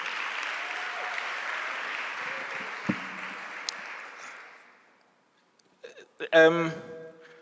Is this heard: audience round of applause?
yes